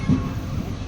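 A train pulls into Guntakal station with a continuous low rumble of rolling wheels and carriages, heard close and loud with no break.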